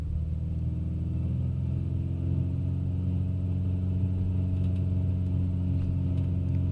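The A2A Bonanza piston engine in a flight simulator drones with a steady, loud, low rumble as the throttle is slowly advanced for takeoff from Cardiff at night, with no voices.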